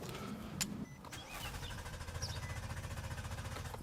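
A 2010 Nissan Maxima engine cranks steadily with a rapid, even rhythm but never catches. It follows a brief click and thump, and the cranking is moderately close and continues to the end.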